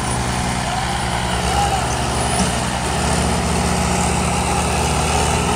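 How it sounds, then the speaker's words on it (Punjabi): An Indo Farm 855 tractor stuck in a very wet, muddy field, its engine running with a steady, low, droning rumble. The sound is close and constant throughout. "ਅਤੇ ਇਹਦੇ ਟਰੈਕਟਰ ਫਸ ਗਿਆ ਜੀ।"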